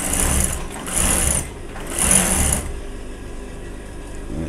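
Sewing machine stitching fabric for a baby girl's jumpsuit, close and loud, in two short whirring bursts followed by a quieter lull.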